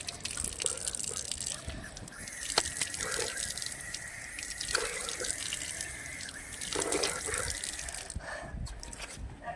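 Water runs steadily from a tap into a sink during face washing, a continuous splashing flow with brief shifts as hands move through the stream, close and moderately loud.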